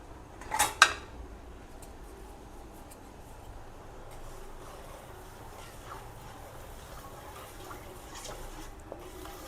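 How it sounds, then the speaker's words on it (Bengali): A metal spoon clatters sharply against a cooking pot for a moment as the pantua sweet mixture is stirred, then a soft, faint scraping continues in a quiet kitchen. "দিয়ে এবার একটু আমি নাড়বো।"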